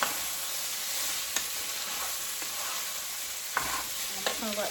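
Mexican rice with peas sizzles steadily while browning in a pan, a dense continuous frying hiss broken by a few sharp stirring scrapes and spoon taps, no voices.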